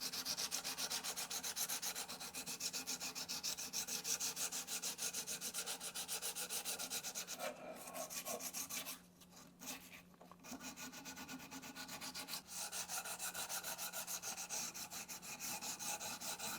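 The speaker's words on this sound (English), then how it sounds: "So let's get sanding." Sandpaper is rubbed by hand over a custom wooden Viking hammer, a steady close scratching stroke repeated rhythmically for many seconds, with a short pause midway, and no talking.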